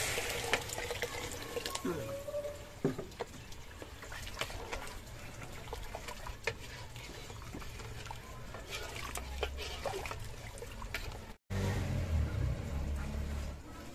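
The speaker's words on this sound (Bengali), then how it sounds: "এখন আমি দিয়ে দেবো গরম পানি" Hot water pours and splashes into a pot of duck curry in a long, steady stream, with occasional clinks and a brief break near the end.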